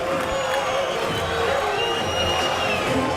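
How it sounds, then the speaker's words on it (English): A big Armenian contingent of boxing fans cheers for Arthur Abraham before his fight with Andre Ward, making a steady, dense crowd roar throughout. "he's got a little crowd support here, too, a big Armenian contingent"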